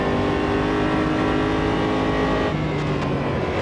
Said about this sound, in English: A bit of a different experience driving a car with this much power compared to the Rocco P3.